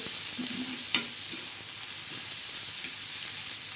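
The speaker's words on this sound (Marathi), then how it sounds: "हे दोन कारले त्याच्यावर टाकणार आहोत तो छान असा त्याला तडका बसतोय" Bitter gourd dropped into hot oil with a spice tempering sizzles and fries steadily, with a couple of light stirring clinks over the constant hiss; no voices.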